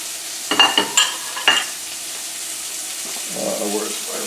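Summer fluke hitting hot olive oil in a cast iron skillet gives a few sharp clattery bursts, followed by a steady soft sizzle, with muffled voices toward the end.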